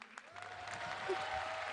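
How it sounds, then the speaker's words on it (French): An audience applauds at a French municipal election campaign rally, a dense burst of clapping that swells and holds steady through the brief moment. "François Fillon, au premier rang, applaudit"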